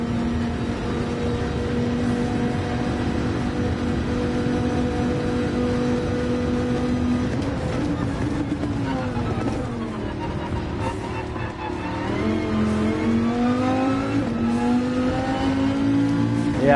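Dodge Viper engine in the racing game Gran Turismo 7, a loud, sustained engine drone that holds steady pitch, then sweeps and rises through gear changes as the car accelerates.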